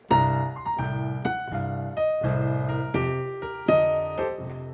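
Solo piano plays a descending bluesy phrase, a handful of accented chord-and-note strikes ringing out at a moderate pace.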